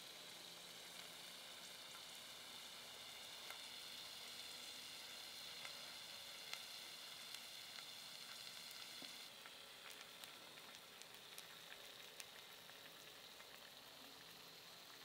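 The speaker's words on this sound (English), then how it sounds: "It's actually sizzling right there on that griddle." Steak sizzles steadily on a solar-powered griddle outdoors, a continuous close crackling hiss with fine popping spatters and no talk over it.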